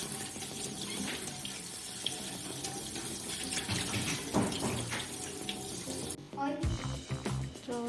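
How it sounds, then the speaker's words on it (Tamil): Tap water runs steadily into a kitchen sink as boiled noodles are rinsed under it, a continuous splashing hiss with clattering, and a brief voice mixed in. "இப்போ இந்த தண்ணியை வடிச்சிட்டு பச்சை தண்ணியில் இதை கழுவ போகிறீங்களா நூடுல்ஸை?"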